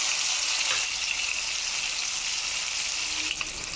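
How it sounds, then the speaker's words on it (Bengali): Chitol fish pieces fry lightly in hot oil, giving a steady, bright, continuous sizzle close up with no talking. "একদম হালকা ভেজে তুলে নেব।"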